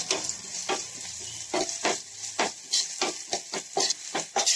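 Sliced onions sautéing in oil with a pinch of salt in a pan for mutton curry, a close sizzle broken by rhythmic bursts of stirring, about a dozen scraping strokes.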